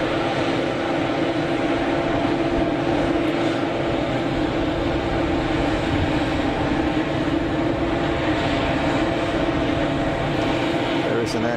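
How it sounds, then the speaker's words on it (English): A passenger airliner makes a full-power takeoff roll from an intersection departure at Geneva Airport, its loud, steady engine roar holding close and constant throughout, with no pauses or breaks. "We're going to get a full power roll here because of the shorter takeoff distance available."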